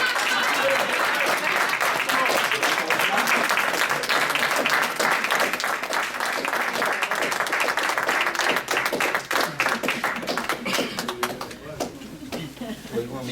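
A satsang audience claps to welcome a speaker, giving sustained, fairly close applause that thins into scattered claps near the end, with talk and what may be bird cooing mixed in.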